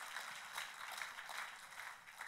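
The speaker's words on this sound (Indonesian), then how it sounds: "tepuk tangannya yang paling meriah" Church congregation applauding, a dense, steady wash of clapping that swells in loose waves and carries on throughout, fairly faint and with no voices over it.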